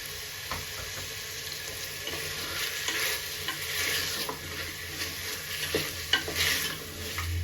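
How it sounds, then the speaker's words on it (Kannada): Onions frying in oil together with chicken for a chicken curry, a sustained bright sizzle broken by frequent spatula scrapes and clinks against the pan, fairly close and loud, with no talking. "ಈರುಳ್ಳಿ ಆಲ್ರೆಡಿ ಇದರಲ್ಲಿರುವಂಥ ಚಿಕನಲ್ಲಿರುವಂಥ ಎಣ್ಣೆ ಪ್ಲಸ್ ನಾವು ಹಾಕಿರುವಂಥ ಎಣ್ಣೆಯಲ್ಲೇ ಚೆನ್ನಾಗಿ ಬೇಯ್ತಾ ಇದೆ"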